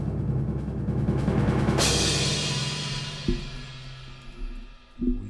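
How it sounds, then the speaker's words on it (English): A timpani roll rumbles in a sustained, swelling drone, peaks in a bright burst, then decays, with a couple of soft low thumps near the end, no voices present. "Timpani roll."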